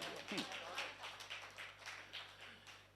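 Audience applause at a Hindi poetry recital, a kavi sammelan held at Raj Bhawan in Hazratganj, Lucknow: a steady patter of many hands clapping, moderately distant, sustained for a few seconds.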